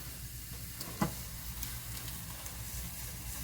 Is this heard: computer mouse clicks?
no